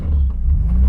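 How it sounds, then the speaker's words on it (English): A car engine blipped in neutral during double clutching gives a short, close, loud rev, a low rumbling swell lasting under a second. "while in neutral, blip, clutch back in while the RPMs is high"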